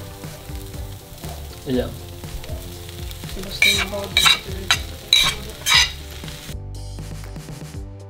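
Cabbage stirred into a sizzling frying pan, with a steady hiss of frying and several scraping, clattering strokes of a utensil against the pan, close by; a brief spoken word at one point.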